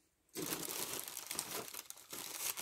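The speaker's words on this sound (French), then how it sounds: "Vous allez mettre de la paille dedans." Dry straw crackles and crinkles continuously as it is handled and stuffed into a container, starting after a brief silence and staying close and fairly loud throughout.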